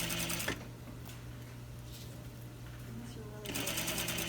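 A sewing machine runs steadily as it stitches an invisible zipper into fabric, a continuous close hum starting after a brief pause and stopping near the end, while a person talks over it.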